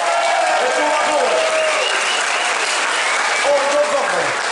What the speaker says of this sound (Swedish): Ett stort applåd!